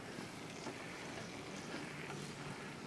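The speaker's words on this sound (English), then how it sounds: "the wind is blowing crazy" Strong outdoor wind buffets and roars continuously at a broad, even level, with no voices.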